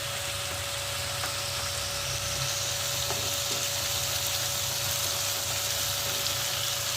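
Spice paste of ginger and garlic frying in a pan for shoul fish kalia, a soft, even sizzle that runs unbroken at moderate loudness with a faint steady hum beneath and no voices.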